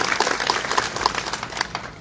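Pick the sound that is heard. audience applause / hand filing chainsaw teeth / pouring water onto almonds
audience applause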